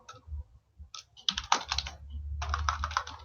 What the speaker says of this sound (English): And continue typing.